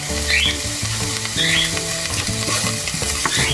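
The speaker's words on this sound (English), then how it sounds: "The onion's already sizzling." Steady, crackling sizzle of onion frying in a hot pan, close and continuous, with faint low tones and clatter underneath.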